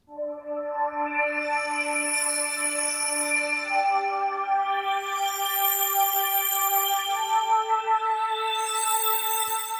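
Korg Triton synth preset playing a slow melody of sustained bell-like notes through delay, each long tone ringing into the next, clean and alone with no talk.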